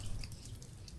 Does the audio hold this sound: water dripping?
yes